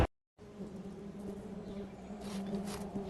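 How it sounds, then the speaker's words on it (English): A swarm of bees drones in a video game setting, a steady, close buzzing that fades in after a brief moment of silence and holds at an even level, swelling slightly toward the end. "Busy, busy bees."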